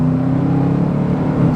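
A 2020 Dodge Challenger R/T with its 5.7L HEMI V8 revs up on a paddle-shift downshift into second, a loud, steady, deep engine roar heard close and full with no break, and no voices over it.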